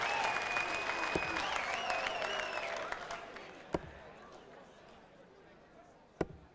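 A darts crowd at a 1996 World Championship match cheers and applauds loudly, with whistles over the clapping, then fades to a murmur as sharp thuds of darts striking the board punctuate the quieter stretch.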